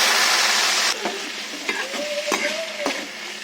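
Chopped onions and tomatoes tossed into a hot pan for an Andhra-style fried fish curry, a broad loud sizzle that drops after the first second, with stirring scrapes and clatter of a utensil against the pan.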